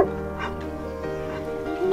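Hunting dogs on a deer hunt yelp and whimper in high, excited bursts, a pack sound layered over a steady low hum, with a couple of louder yips near the start and end.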